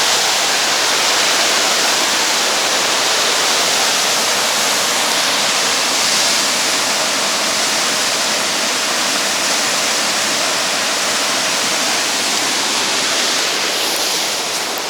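A rushing mountain river in Kyrgyzstan's Chichkan area roars loud and steady, a dense unbroken wash of white-noise water filling the whole stretch with no voices.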